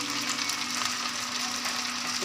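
Kung Pao sauce poured over chicken sizzles and crackles in a hot pan while being stirred, a steady bright hiss that runs unbroken and fairly close, with no talking.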